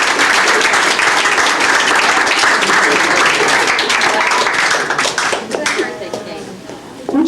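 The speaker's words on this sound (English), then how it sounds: "I think his sons and their families also deserve a round of applause" Loud, dense applause fills the room at an 80th birthday party, sustained clapping from a crowd that thins out toward the end as voices begin to emerge.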